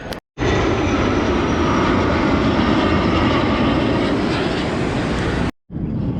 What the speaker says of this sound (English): These F-16s, they're flying in pairs usually.